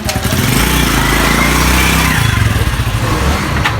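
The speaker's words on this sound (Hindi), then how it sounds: "ये देखिए हम अब गाड़ी घुमाएंगे।" Motorcycle engine idling and revving near and loud as the bike is turned around, a steady throbbing drone throughout.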